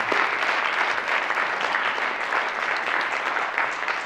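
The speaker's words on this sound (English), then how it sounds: "Let's give him a round of applause for that." A crowd gives a round of applause at a community gathering, dense and steady clapping that holds at an even, fairly loud level for the whole stretch with no talk over it.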